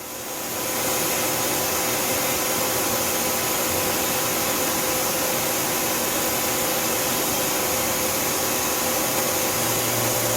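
A Tsugami S206 CNC Swiss lathe spindle spins up to 5,000 RPM, rising quickly to a loud, steady whirring hiss with faint tonal whine that holds evenly to the end, no voices.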